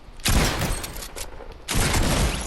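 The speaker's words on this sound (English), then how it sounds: "Oh, I almost got shot there." Bursts of rapid gunfire from the Fortnite video game, two dense volleys separated by a short lull, loud and crackling with no voice over them.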